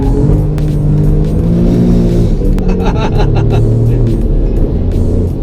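An Alfa Romeo Giulia Quadrifoglio engine held at high revs during power slides on a track, a loud, steady, close growl with a brief rise and fall in pitch and no talk.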